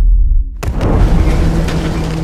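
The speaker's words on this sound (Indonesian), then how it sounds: "Dalton langsung meledakkan bomnya." A bomb blast in an action film set around a boat, a sudden loud boom breaking a near silence and followed by a rumbling, crackling tail.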